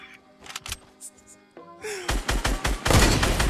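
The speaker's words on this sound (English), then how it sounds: "I just got a no-scope headshot" Gunfire from a no-scope headshot in the Fortnite video game lands as a loud burst of rapid, punchy shots in the second half, after quieter clatter.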